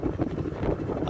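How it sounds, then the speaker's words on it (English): Wind gusting across an open rooftop during roofing work on a 10-storey apartment building, a steady rushing roar buffeting the microphone with low rumbling swells and no break throughout. "Another windy day!"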